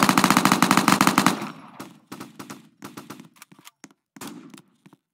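Rapid gunfire from a Roblox Brookhaven game weapon, a dense burst of fast repeated shots for over a second, then scattered sparser shots and clicks trailing off, fairly loud with no talking.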